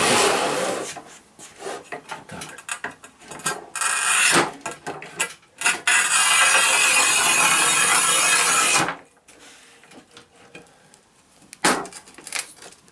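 A Topvei V-2012 manual tile cutter with a 1200 mm rail scores and snaps ceramic tile, giving close scraping strokes, a sustained grinding rasp of the scoring wheel, and sharp clicks and knocks between passes.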